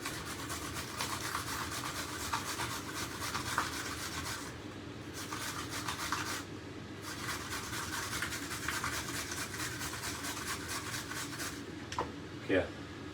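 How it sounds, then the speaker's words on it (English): A knife finely chops red cabbage on a board in a home kitchen, making a fast, continuous run of soft, rhythmic cuts that pauses briefly twice, with a few sharper knocks near the end. "We're just going to chop up the red cabbage very finely."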